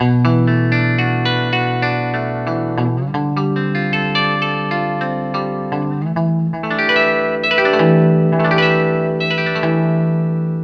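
Bright, steely electric guitar chords ring out with a shimmering, effected tone and echo, played continuously and up close with no voices.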